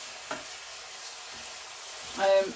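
A honey soy pork steak frying in a pan gives a quiet, steady sizzle, with a faint scrape early on and a louder burst of spatter near the end.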